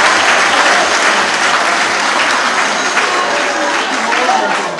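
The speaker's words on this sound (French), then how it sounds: "Je vous demande de le féliciter et l'applaudir." A room full of people at a press conference in Dakar breaks into loud, sustained applause, dense steady clapping that fills the space for several seconds before easing slightly at the end.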